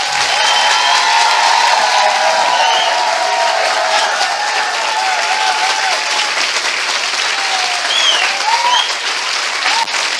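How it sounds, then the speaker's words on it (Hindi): A church congregation gives loud, sustained applause during a sermon, dense clapping continuing steadily throughout with scattered faint cheers. "क्या हम अपने महान परमेश्वर के लिए एक जोरदार ताली बजा"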